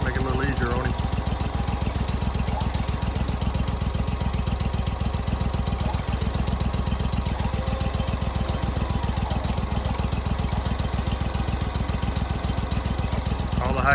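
A Wood-Mizer LT40 sawmill's engine runs steadily and loud, a constant rapid mechanical throb with no pauses, while a voice is faintly present underneath.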